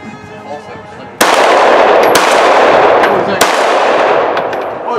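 Gunfire at an outdoor shooting range as a magazine is emptied, a rapid string of loud, close shots starting abruptly and continuing for several seconds, with a few sharper cracks standing out.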